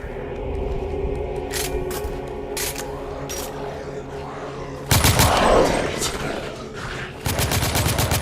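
Machine gun fire in The Order: 1886 during a Lycan fight, loud close bursts of rapid automatic shots with a heavy stretch in the middle and another burst at the end, over game ambience and scraping sounds.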